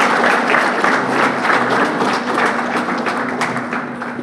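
A school sports crowd applauds the male basketball team at a Windward Islands Schools Games introduction, loud, dense, continuous clapping from many people filling the whole stretch without pause.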